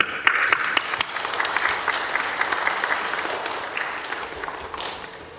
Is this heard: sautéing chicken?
no